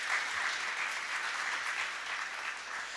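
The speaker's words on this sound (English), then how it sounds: "A round of applause to our speakers." Sustained audience applause for speakers at a tech talk on AI and agile, dense even clapping from a crowd holding a fairly constant level throughout.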